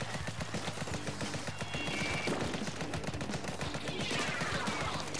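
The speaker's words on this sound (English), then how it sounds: "Got a bunch of Tenta missiles there." Tenta Missiles launch in Splatoon 2 during a ranked online battle: a rapid, rattling volley of whooshing launches and impacts packs the whole stretch, loud and continuous over busy game music.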